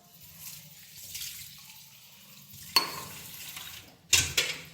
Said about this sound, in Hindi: दीदी बर्तन साफ कर रही है